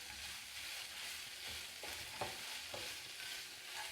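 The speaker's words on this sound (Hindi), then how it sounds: "गरम हो गया ऑयल, अब इसमें चिकन डालेंगे। इसको हल्का सा फ्राई कर लेंगे।" Chicken dropped into hot oil for a light fry makes a soft, steady crackling sizzle at close range, with a few sharper spatters and stirring clicks and nobody speaking.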